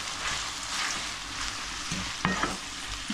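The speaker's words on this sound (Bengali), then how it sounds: "আর এই সময়ের মধ্যে আমি পেঁয়াজটাকে ভেজে নিচ্ছি।" Onions fry in oil with spices for a green curry, giving a continuous close sizzle. A few scrapes and knocks of stirring come near the end.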